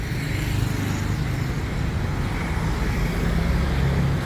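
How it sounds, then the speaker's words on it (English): Dense afternoon road traffic on Sukhumvit Soi 55 in Thong Lo, Bangkok, near a toll road: a continuous loud roar of passing cars and engines with low rumbling undertones and no pauses. "It's about 4:30 in the afternoon, so we're getting a little bit of traffic."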